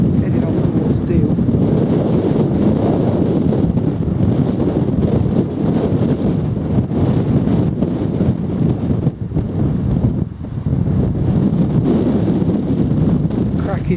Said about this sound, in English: Save the wind. If that was down just a tad, would be lovely.